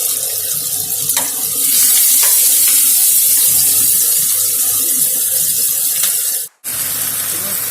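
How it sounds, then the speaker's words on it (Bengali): A handful of onion frying in hot oil makes a loud, steady hiss, with scraping stirs heard throughout and a brief cut near the end. "এক মুঠো পেঁয়াজ গেল ভাজা"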